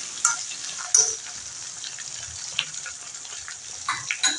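Hair oil with china rose flowers cooks over a low flame, giving a soft, steady sizzle and bubbling with a few faint clinks and stirring scrapes, heard close with no voices.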